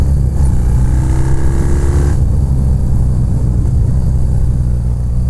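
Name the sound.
custom BMW R45 airhead motorcycle engine revving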